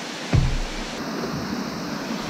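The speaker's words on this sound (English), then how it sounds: "Oh, there's a waterfall." A waterfall in an icy stream roars as a steady broadband rush, close and fairly loud, with a brief knock near the start and no voices.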